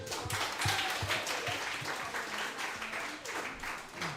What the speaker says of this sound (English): let's clap it up again for the Bees